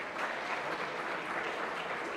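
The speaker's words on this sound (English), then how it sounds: "give him a round of applause" An audience at an annual car club membership awards ceremony applauds, a steady wash of many hands clapping, moderately distant and even, with no break.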